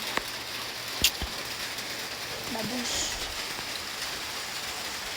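Steady rain patters softly outdoors, with a couple of sharp drips and a brief murmured voice over the hiss.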